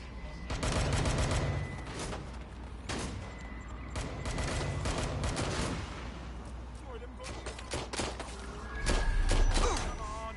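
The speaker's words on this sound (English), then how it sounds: "Oh, grenade!" Grenade blast and bursts of gunfire in the Watch Dogs: Legion video game, with repeated sharp shots, heavy thuds and a loud swell near the end, mixed with game voices.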